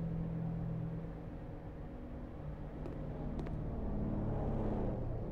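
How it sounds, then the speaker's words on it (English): Street traffic in the video game House Flipper, heard at night from a bathroom above the road, forms a faint, steady low rumble with no breaks. "Traffic is kind of loud down there though."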